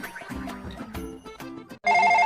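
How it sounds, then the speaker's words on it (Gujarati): A mobile phone ringtone cuts in loud and steady with a bright repeating tone at the end, right after a stretch of music, during a comedic scene set in a barber shop. "ઉભો રે ભાઈ, ફોન આવ્યો."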